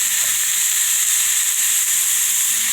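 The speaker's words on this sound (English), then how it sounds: "adding a little bit of this olive oil. I'm going to stir that up." Kale and vegetables sizzle in olive oil in a pan as they are stirred, a steady close hiss of frying running evenly throughout with no break.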